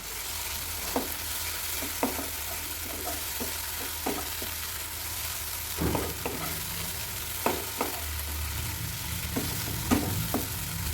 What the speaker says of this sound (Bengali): এবার মশলাটাকে সুন্দর করে কষিয়ে নেব